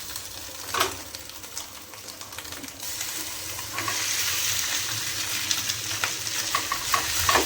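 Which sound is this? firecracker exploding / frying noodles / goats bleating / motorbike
frying noodles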